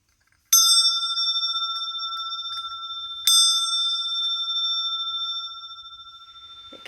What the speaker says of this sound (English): And there's also a bell hanging here.